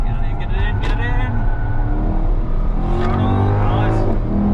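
Race car engine revving up out of a corner, rising whines swept through gear changes, loud and close beneath someone talking over it.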